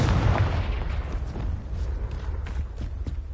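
A Confringo spell blasts in Hogwarts Legacy, opening with a heavy, booming explosion whose low rumble decays into a crackling, popping tail with scattered small bursts.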